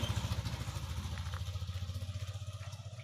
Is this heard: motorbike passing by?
yes